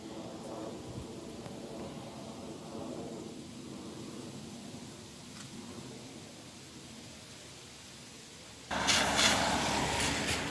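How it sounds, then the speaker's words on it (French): Steady hiss of rain falling over a flooded lakeside port in Breuillet, continuous and even, swelling abruptly louder near the end. "Il pleut encore"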